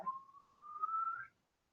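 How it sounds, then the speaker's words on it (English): A single thin whistle made while inhaling yogurt, rising slightly in pitch and lasting about a second, close and quiet, with no talking. "I kind of whistle while inhaling my yogurt."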